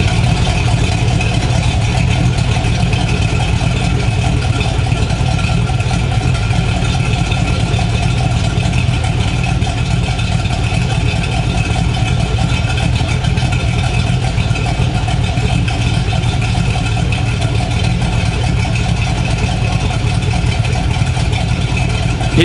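An LS-swapped Jeep engine runs steadily throughout, a loud, close, rumbling idle with a constant deep drone and no noticeable change in pace or any voices.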